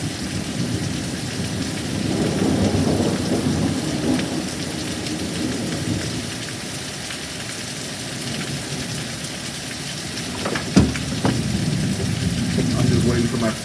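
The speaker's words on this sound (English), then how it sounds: "close lightning strike." Heavy rain pours steadily throughout a gusty thunderstorm, with a low thunder rumble swelling near the start and a sharp crack near the end.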